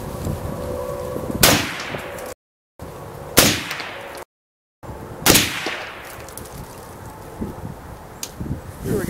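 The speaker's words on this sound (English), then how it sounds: "We'll shoot a quick group here just to see where we're at" Three loud rifle shots fired at an outdoor shooting range while grouping a Vortex Spitfire Prism 3x optic, spaced about 1.5 seconds apart, each with a sharp crack and a short decaying echo.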